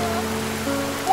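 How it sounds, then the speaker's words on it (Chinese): Rain starts falling at an outdoor scenic spot beside loud running water, a steady wash of drops over a soft tonal background that swells slightly toward the end. "越下越大了，一会儿再说。"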